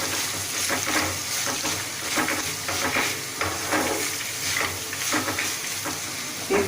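Grated raw mango sizzles steadily in hot oil with fried lentils while being stirred, for mango pulihora; a close, continuous frying hiss broken by regular scraping stir strokes, with no talking.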